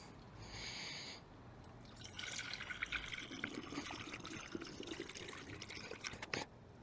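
Liquid pours through a funnel into a first-generation Dodge Cummins engine, making a steady trickling, gurgling flow at close range that keeps going for several seconds with small splashes and drips.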